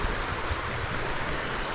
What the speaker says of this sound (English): the creek is flowing pretty good.